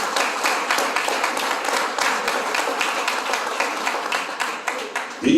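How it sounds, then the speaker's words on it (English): An audience at an awards ceremony applauds the awardees, a dense and steady clapping that carries on through the whole stretch at moderate loudness. "let us give them a roaring round of applause"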